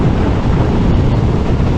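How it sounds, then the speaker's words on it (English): Heavy wind rush buffets the microphone while riding a Husqvarna 701 Supermoto without a windshield, a loud, constant broadband roar with no distinct voices. "Yeah, it is windy."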